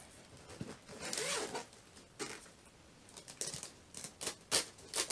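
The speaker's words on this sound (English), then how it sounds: "Got two zippers here." Zippers on a nylon telescope carrying bag are pulled open in several quick, close rasping strokes, with short pauses between them and no talking.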